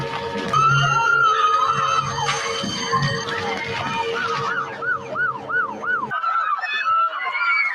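Attack warning siren wailing loudly, its pitch rising and falling in repeated sweeps, layered over a steady tone at first and then cycling alone, with a brief voice mixed in.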